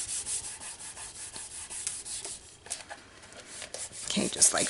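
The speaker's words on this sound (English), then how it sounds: "I'm just going to burnish that in" Paper is rubbed and burnished onto a glued craft box by hand, a close, steady scratchy rubbing in quick repeated strokes, with a brief pause and a louder scrape near the end.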